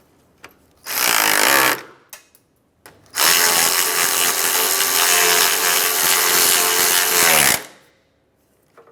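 Power tool, likely an impact wrench or drill, tightening bolts during a radiator replacement on a 2007-2013 Acura MDX: two loud whirring bursts, a short one then a longer steady run of about four seconds, close by with no talk.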